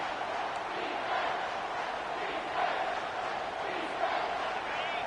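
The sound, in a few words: crowd cheering in College Football 25 video game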